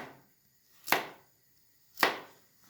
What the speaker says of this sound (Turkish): Havuçlarımızı da jülyen jülyen doğrayacağım.